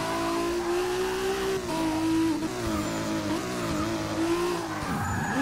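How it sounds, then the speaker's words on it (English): An AWD Toyota Supra in Forza skids under the e-brake, a loud sustained tire squeal that wavers in pitch over a droning engine, continuous for several seconds. "nice with the e-brake. It gives you a nice little back end spinning around there."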